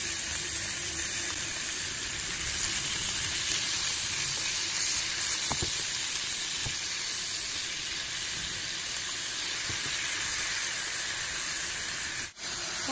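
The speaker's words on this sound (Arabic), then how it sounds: "بدات كتهوي، غادي ندير عليها الدجاج" Chicken pieces, about 350 to 400 grams, going onto softened onions in a hot pan, giving a steady, close hiss and sizzle that holds evenly throughout, with a few faint clicks and no talking.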